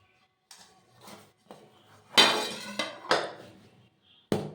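A knife runs around the edge of a chocolate sponge cake made without cocoa powder or flour, loosening it from its pan with a series of sharp metallic scrapes and clinks, some louder than others, close up.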